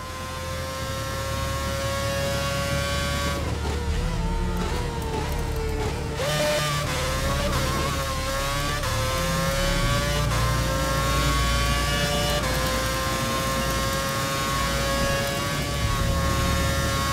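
A Formula 1 race car engine roars steadily and loudly throughout, its high-pitched whine rising and falling with gear changes and revs, sustained without pause and with no voices.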